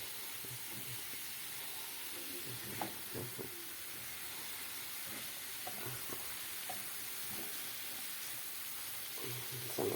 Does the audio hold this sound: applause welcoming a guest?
no